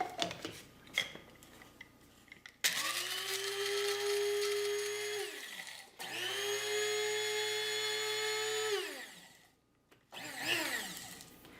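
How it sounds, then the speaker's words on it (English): A small electric coffee grinder grinding dried marshmallows whirs loudly in two long bursts of about three seconds each, with rattling of pieces inside, then a brief third burst. "I put them in my spice grinder or coffee grinder"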